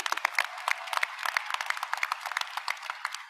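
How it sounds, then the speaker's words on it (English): A graduation ceremony audience for a high school class of 2024 gives a round of applause, many hands clapping in a scattered, moderately loud patter with individual claps standing out, heard from across a hall. "I still think it's worth a round of applause for sure."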